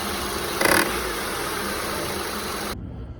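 Honda CR-V engine running steadily with a brief rev near the start, a constant droning hum with a faint whine from a noisy belt tensioner, heard close under the hood without speech.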